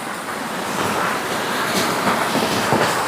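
A flowing mountain stream at its first crossing rushes in a steady, dense wash of water, loud and close, with no voices.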